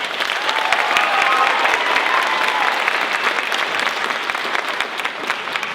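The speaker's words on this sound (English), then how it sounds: "Let's give another round of applause for all of these amazing students" Audience applause for student drama performers at a closing-night theatre show, a dense, steady ovation of many hands sustained throughout, with faint voices mixed in.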